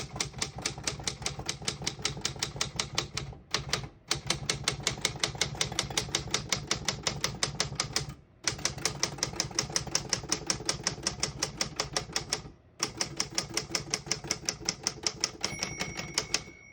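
Keys clack rapidly on a 1940 Smith-Corona Standard desktop typewriter in fast, even bursts of sharp mechanical strikes, with short pauses between runs and a bell-like ring near the end.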